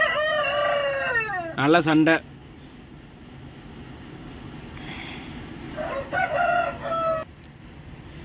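Two crows from a Kattu Seval gamecock with white legs and a sturdy 4.5 kg build, one short loud call early and a longer one near the end, with someone talking over steady background noise.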